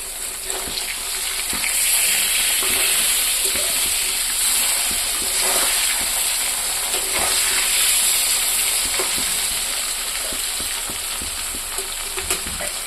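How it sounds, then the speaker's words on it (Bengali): Local fish frying in a kadai, lightly browned: a constant, fairly loud sizzle and bubbling hiss with small crackles and stirring sounds that hold steady throughout. "মাছটা আমি ভাজা করতে দিয়ে দিয়েছি"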